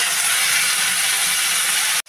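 Cumin, chopped green chilli, grated ginger and chopped tomato hit hot oil while cooking lahsuni palak kadhi, giving a loud, steady broadband sizzle that runs unbroken for about two seconds and then cuts off abruptly.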